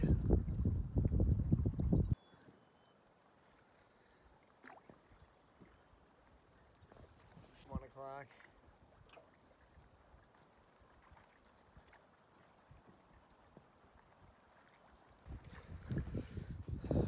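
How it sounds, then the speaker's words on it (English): Heavy wind buffets the microphone in loud gusts at the start and end, with quieter rushing air and faint water in between. "It's a little windy."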